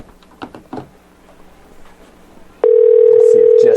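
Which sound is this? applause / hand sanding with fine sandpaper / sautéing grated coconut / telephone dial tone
telephone dial tone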